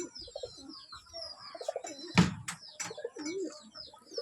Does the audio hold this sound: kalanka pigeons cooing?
yes